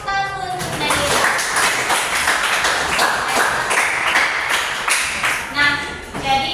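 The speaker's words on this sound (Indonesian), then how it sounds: "Oke, kasih tepuk tangan untuk Nadira." A classroom of students applauding together, a dense burst of clapping lasting several seconds, close and loud, with a teacher's voice briefly heard at the start and end.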